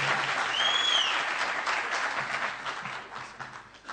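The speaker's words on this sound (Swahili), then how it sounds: "Tumpigie makofi mzuri." An audience at a political rally in Kenya breaks into loud, dense applause that gradually thins out over a few seconds, with a brief whistle near the start and faint voices mixed in.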